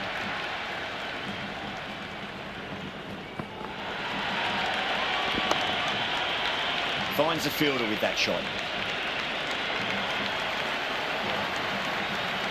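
Steady crowd murmur from a cricket stadium in the video game Cricket 26, a broad continuous buzz with a brief swell of cheering, running beneath a commentator's voice throughout.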